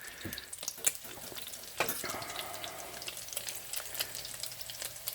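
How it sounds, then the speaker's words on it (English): Crab cakes sautéing in a frying pan for an award-winning Carolina crab cake recipe, a steady close sizzle with soft crackles and a few brief clinks and scrapes, no talking. "So you can see they're sauteing nicely."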